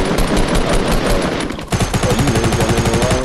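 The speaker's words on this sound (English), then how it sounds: "I'm minigunning it." Minigun fire in a Fortnite squad match, a rapid continuous stream of loud shots that runs steadily, briefly drops out, then resumes with a heavier thumping burst.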